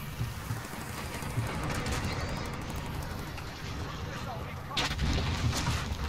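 Continuous M13 rifle fire in the shooter game Call of Duty Modern Warfare 2019, a dense rapid clatter of shots that runs throughout and swells louder near the end, under the mixed noise of battle.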